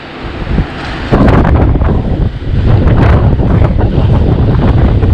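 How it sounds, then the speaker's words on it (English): Strong gusts buffet the microphone outdoors at a Welsh forestry site, a loud, rough low roar that surges after the first second and stays heavy to the end. "there's so much wind here, it's about blowing me off my feet"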